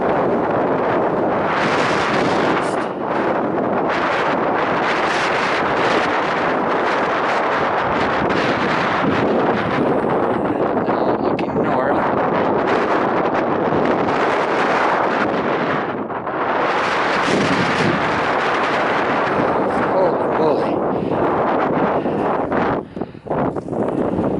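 Strong, gusty wind buffets the microphone on the summit of Pikes Peak, a loud, roaring rush that surges and eases throughout.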